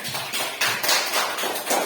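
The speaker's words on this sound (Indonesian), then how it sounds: "Tepuk tangan buat kita semua" A group claps hands together in loud, close bursts that rise and fall in an uneven rhythm over two seconds.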